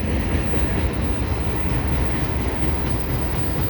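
A CN eastbound freight train of tank cars and mixed freight rolls past at the Dorval ramps on a fall day, a steady, close, broad rumble of wheels and cars with no voices.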